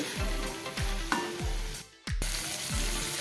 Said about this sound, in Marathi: साधारणपणे दोन ते तीन मिनटं आपण हे छान फ्राय करून घेऊया